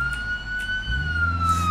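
A police car siren in a driving game, a steady electronic tone with overtones held over a low engine rumble, loud and continuous without speech.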